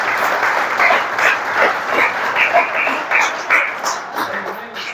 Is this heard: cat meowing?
no